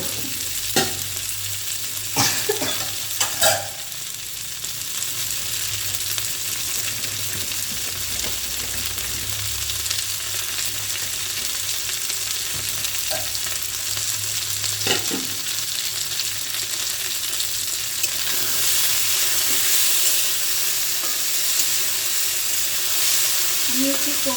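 Food fries in a little oil in a pan, a continuous close sizzle with a few sharp clinks of stirring early on and a brighter hiss toward the end.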